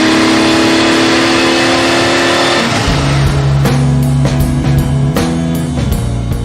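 A Lamborghini sports car engine roars loudly, holding a steady drone before revving up in several sharp bursts, close by and with no voices.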